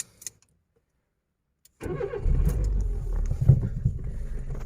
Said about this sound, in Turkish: Şöyle bir marşımıza basalım.